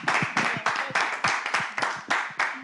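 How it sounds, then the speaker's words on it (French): Slow, rhythmic clapping in unison, about ten evenly spaced claps from a small group, close and fairly soft. "on va applaudir pour vous."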